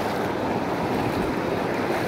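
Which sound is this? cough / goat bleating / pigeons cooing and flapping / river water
river water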